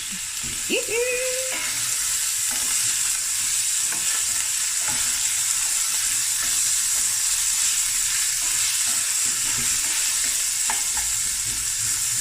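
Onions and green pepper frying in a pot for Cape Malay marinated chicken, a loud, steady hissing sizzle held throughout, with a brief stirring clatter near the start.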